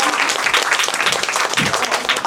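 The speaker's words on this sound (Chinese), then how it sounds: "掌声鼓励他。" A live music show audience applauds, a dense, loud wash of clapping that continues evenly for a couple of seconds with no voices on top.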